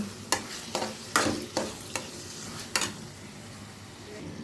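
Garlic and cumin paste fry in hot oil for a gongura boti curry, giving a constant sizzle broken by about six sharp scrapes of a spoon stirring the pan at an uneven pace.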